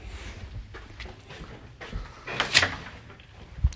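A hotel door in Blackpool bangs near the lifts, a soft thud and shuffle followed by a sharper knock and rattle, moderately loud over faint room noise with no talk.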